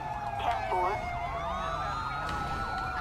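Ambulance siren wailing continuously in the GTA 5 video game during a police pursuit, several overlapping siren sweeps loud and steady over a low engine rumble.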